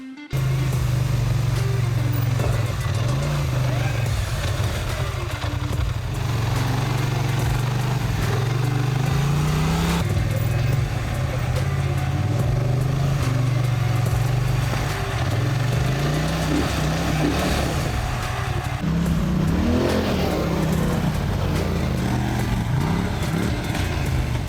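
A Polaris Scrambler XP 1000 ATV engine drones steadily and loudly up close, its pitch swelling and dipping as the throttle is worked over a long stretch.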